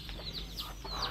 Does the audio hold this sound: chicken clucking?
yes